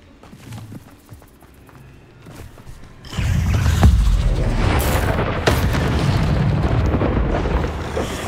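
A Bombarda spell blast in Hogwarts Legacy, cast inside a cave maze: a deep, booming explosion erupts partway through and its rumble sustains loudly to the end, following quieter rustling.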